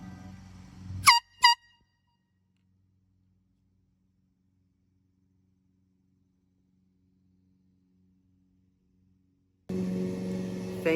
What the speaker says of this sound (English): when I honk my horn, someone blew their horn to honking me back